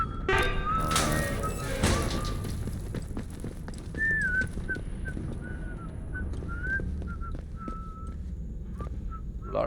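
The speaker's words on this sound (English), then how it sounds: "NPCs whistle in this game" NPCs in the post-apocalyptic video game Atomfall whistle short melodic phrases over a busy game soundscape. Footsteps, clatter and ambient noise run underneath, and a burst of louder noise comes early on.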